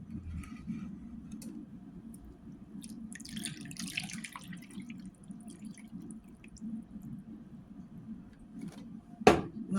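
Tap water runs steadily into a pan of chicken wings being readied for baking with barbecue sauce, a continuous close trickle and splash with a sharp clatter near the end.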